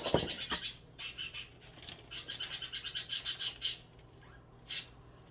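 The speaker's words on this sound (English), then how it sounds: "And my birds are chirping, they're happy." Pet birds chirp and tweet in quick bursts, bright and close, with short pauses between flurries of calls.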